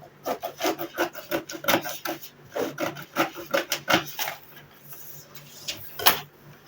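Scissors cutting out fabric for an off-shoulder frock, a series of irregular rasping snips and rubs, close and moderately loud, with short pauses between cuts.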